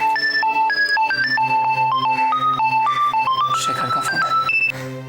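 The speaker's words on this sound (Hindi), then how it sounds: "शेखर का फोन है" A mobile phone rings in a Hindi TV drama scene, playing a bright melodic ringtone that loops prominently for several seconds before cutting off near the end.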